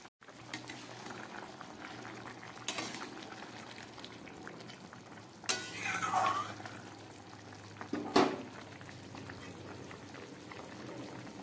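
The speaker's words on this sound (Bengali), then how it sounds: "কারণ এটা কচু দিয়ে ঝোল হচ্ছে" A Bengali fish curry with taro simmers in a pot, a soft, quiet bubbling throughout with a few brief sharp knocks and louder bubbling bursts.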